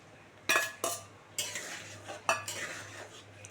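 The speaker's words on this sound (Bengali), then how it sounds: "এবারে আমি এই ভাজা চিংড়ি মাছটা দিয়ে দিচ্ছি" Fried prawns go into a pot of papaya moong dal, followed by a few sharp metal-on-metal clinks of a spoon stirring against the pan, spaced irregularly over a faint low hum.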